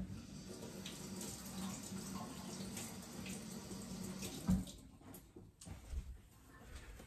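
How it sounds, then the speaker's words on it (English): A kitchen knife blade, a Victorinox Grand Maitre, is rinsed under a running tap, a steady close wash of water with brief clinks and splashes before the flow tapers off near the end. "actually let me wash this blade off real quick"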